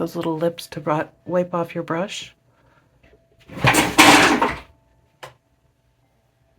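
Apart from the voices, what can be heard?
cat knocking over a box of nail polish bottles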